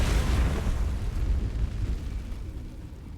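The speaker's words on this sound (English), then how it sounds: "Wall of fire." Wall of Fire spell in Baldur's Gate 3, a loud roaring rush of flame that bursts at once and then holds as a steady, slowly fading burn.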